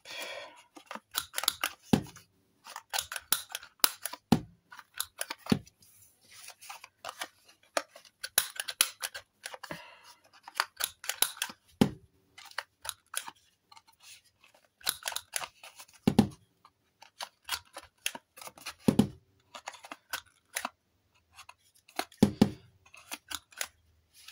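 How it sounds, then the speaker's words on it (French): Large scissors make repeated crisp snips as they round the corners of vintage-style paper identity cards, a series of close, sharp cuts with short pauses and handling noises between them. "Je vais prendre mon gros ciseau"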